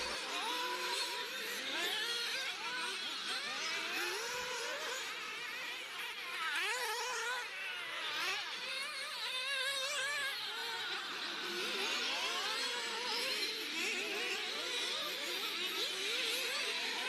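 Several 1/8-scale nitro off-road RC cars race in a junior final at Longvic, their high-pitched buzzing engines whining and revving continuously at mid distance, overlapping one another throughout.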